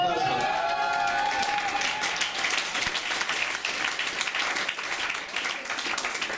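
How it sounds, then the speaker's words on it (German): Audience at an Austrian shooting club ball (Schützenball) bursts into applause, dense clapping with some crowd noise and faint cheering, steady throughout and tapering slightly toward the end; a brief tone is heard at the start. "Das ist ein Applaus."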